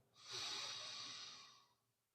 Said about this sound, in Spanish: Ahora hacemos otra respiración profunda.